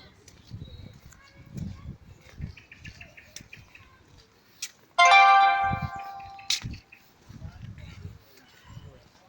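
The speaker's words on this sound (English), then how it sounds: "You can see some really immense seagulls." Birds calling along Chester's historic city walls, with large seagulls and pigeons around; scattered chirps and calls over outdoor ambience and talk, then a loud, sustained bright call lasting over a second near the middle.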